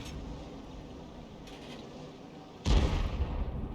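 An M53/M55 artillery gun fires in a video game, a single heavy boom landing near the end after a low ambient rumble.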